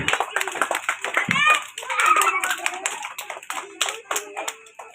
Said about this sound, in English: Come, clap your hand all.